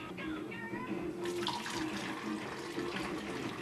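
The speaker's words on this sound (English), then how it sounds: "now we're going to strain the carrot juice out of this" Raw carrot juice being strained while making Jamaican carrot juice, a steady watery pouring and trickling that runs continuously at close range, with no talking.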